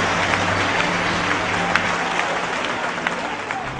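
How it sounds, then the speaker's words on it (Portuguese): A church congregation applauds steadily throughout, a dense wash of clapping from a crowd in a worship service, with voices faintly underneath. "Os que podem, tomem seu assento, aplaudindo a Jesus"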